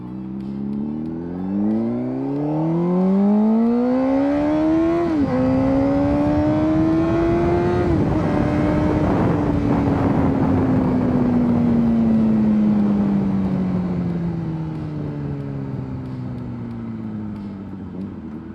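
A 1000cc sport bike engine runs loud and close, its note climbing smoothly for several seconds, then gliding gradually lower as it settles. The sound is continuous, with no voices over it.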